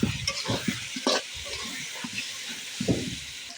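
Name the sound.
meat and green chillies frying and being stirred in pan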